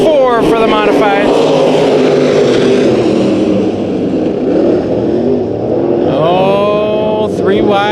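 Modified race cars in a heat race at Perris Auto Speedway: a loud, continuous pack of engines roars and revs around the dirt oval, with rising whines as cars pass close, under steady announcer commentary.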